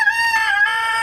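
A chicken on a relaxing farm gives one sustained, tonal call at close range, clear and alone without talk.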